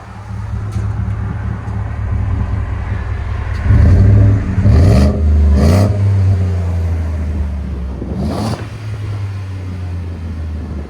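Ford F-150 with a 5.0L V8 and aftermarket exhaust idling with a deep, steady low rumble, swelling briefly louder around the middle as it is backed out, with no talk.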